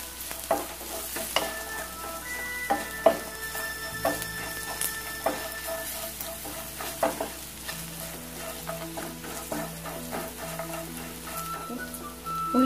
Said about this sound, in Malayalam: ഇതൊന്ന് നന്നായിട്ട് വഴറ്റിയെടുക്കാം.